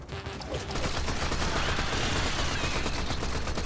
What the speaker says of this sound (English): It's a lot of exploding things.